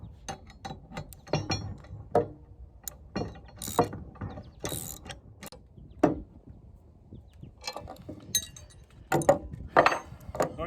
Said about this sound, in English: And then we will tighten those up with the wrench.